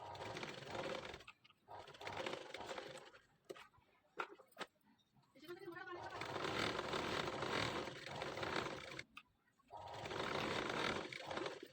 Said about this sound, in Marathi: दोन शिलाई दिल्या म्हणजे लेस उचलत नाही.